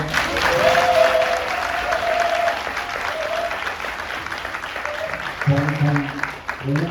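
Audience applause at a Korean-American community forum on freedom, democracy and faith, steady clapping from a crowd held for several seconds, with a voice speaking over it toward the end.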